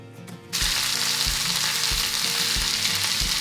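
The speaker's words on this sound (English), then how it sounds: "Now I have taken 15 gram of butter and I am going to melt it" Butter sizzles and crackles loudly in a hot pan after a brief quiet start, a steady close frying hiss with occasional low knocks, no voices.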